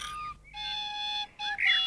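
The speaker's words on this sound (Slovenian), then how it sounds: "Glas Viljemove piščalke je pomladni vetrič ponesel prek Trnovega Robidovja." A small pipe or whistle plays a few bright, clear notes in short phrases broken by brief pauses, close and alone in a quiet springtime cartoon setting.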